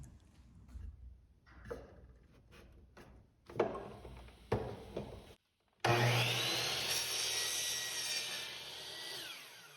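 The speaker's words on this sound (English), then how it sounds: "Now use the miter saw to cut the wood and the pipe to the same length." A miter saw cuts scrap wood and PVC pipe. Scattered handling knocks come first, then a brief pause, then a loud, sustained whining blade roar runs close and steady to the end.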